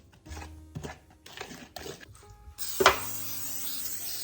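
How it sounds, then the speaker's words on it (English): Cooking spray hisses onto a cake pan in a home kitchen, a single short pressurized burst following some quiet handling clatter and taps. "Spraying my pan."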